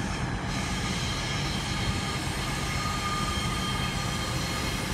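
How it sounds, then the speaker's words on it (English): A double Pacer diesel unit arrives at Exeter St David's, a steady broad rumble filling the air with thin high wheel squeals threading through it, loud and continuous, with no voices. "Good old pacers coming in very squeakily."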